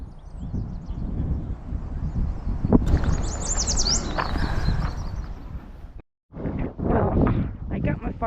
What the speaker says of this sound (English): There's a yellow warbler singing right there in the tree.